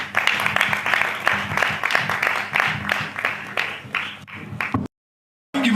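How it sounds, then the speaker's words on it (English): Audience applause at an old students' association gathering of a college class, a steady wash of many hands clapping for several seconds before cutting to silence, with a brief return at the end. "Give a round of applause once again"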